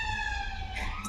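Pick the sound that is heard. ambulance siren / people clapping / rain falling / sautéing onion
ambulance siren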